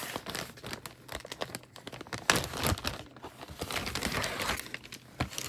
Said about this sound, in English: I'm going to go ahead and take it out of the plastic.